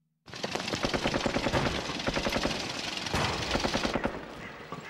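Near an ammunition depot, a machine gun fires long, loud, rapid bursts that start abruptly and run almost continuously, with a brief dip before the firing resumes.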